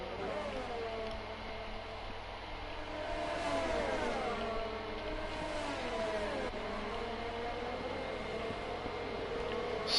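Race cars run at the Sakhir circuit in Bahrain, holding a continuous engine whine whose pitch rises and falls as the cars accelerate and shift gears. A race commentator's voice sits faintly beneath the noise.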